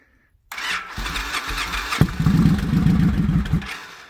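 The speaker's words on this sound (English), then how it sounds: "We'll see if it starts. It's cold." A 2007 Victory Vegas Jackpot motorcycle engine cranks over in the cold with a whirring starter, then catches into a loud, rough, close idle with a throbbing low rumble, and no one speaks.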